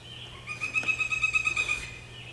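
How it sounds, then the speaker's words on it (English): A bird calls in a rapid, warbling run of high notes, fairly faint and a little distant, over a low steady hum. "That bird just laughed."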